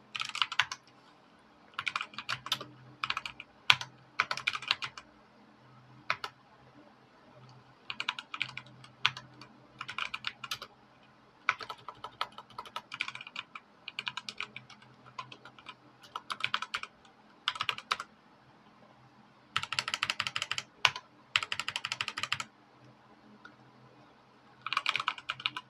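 Bursts of fast typing on a computer keyboard while a software form is filled in, clattering runs of keystrokes separated by short pauses, close and clear over a quiet background.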